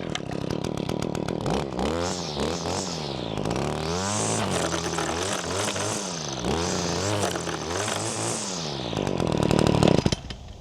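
Echo gas string trimmer with a newly replaced head started on a test run, its small two-stroke engine buzzing loudly and revving up and down repeatedly, close by with no voices.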